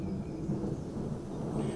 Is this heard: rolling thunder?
yes